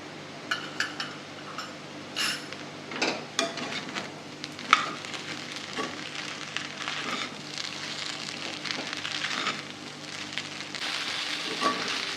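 Sabudana khichdi stir-fried in a pan, a steady loud sizzle and crackle of frying throughout, broken by occasional clinks and scrapes of a spoon stirring, with no voices.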